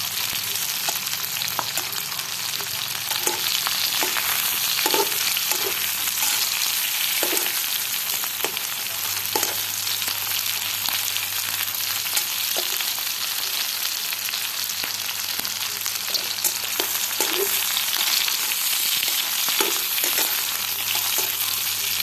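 Water spinach and prawns stir-fry in a hot pan, giving a continuous loud sizzle over the whole stretch, broken by regular scrapes and clacks of the spatula, with no voices.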